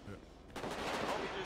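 Gunfire in a GTA 5 roleplay session: a quick burst of shots that starts abruptly mid-clip and rings on briefly, fairly loud and close.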